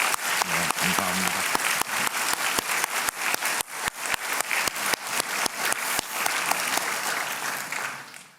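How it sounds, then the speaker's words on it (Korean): Church congregation clapping to welcome middle school, high school and special-needs students at a Sunday worship service, loud sustained applause with sharp individual claps, a brief voice at the start, then tapering off at the end. "우리 환영하고 사랑하는 마음으로 박수 한번 하도록"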